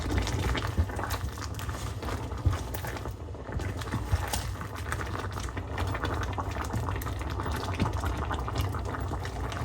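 Bottle gourd and shrimp simmer in a pan, giving a steady bubbling, watery hiss with a low rumble that runs unbroken and fairly close throughout, with no talking.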